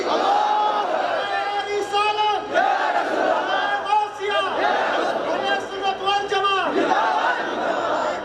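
A large religious gathering at a Bangladeshi waz sermon shouts a takbir chant back in unison, a loud, sustained mass of many voices rising and falling in repeated waves across the whole stretch.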